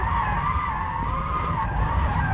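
A 2,000hp Rimac Nevera drifting with its tires skidding in a steady, loud, continuous squeal that holds without a break, close up and with no talking.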